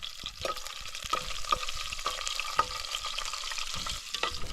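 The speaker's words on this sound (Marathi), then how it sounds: "आता लसूण लसूण कढीपत्ता टाकलाय चला तेल भरपूर तापलेलं आहे" Garlic and curry leaves sizzling in plenty of hot oil with whole spices, a close crackling fry with sharp pops and stirring clicks throughout, no talk.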